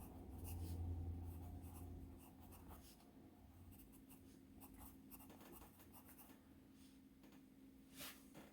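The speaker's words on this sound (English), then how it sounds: "These are quite smooth writing pencils, and I can feel the flat spot developing because they're so soft." A soft Deli writing pencil scratches across paper in steady short strokes, a quiet, close, papery rasp over low background hum, with no voices.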